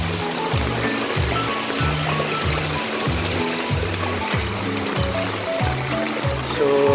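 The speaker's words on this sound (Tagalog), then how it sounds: "Ayan, baha din." Floodwater from monsoon and typhoon rains flows along a town street with a steady, close rushing wash, overlaid by a regular low thumping rhythm.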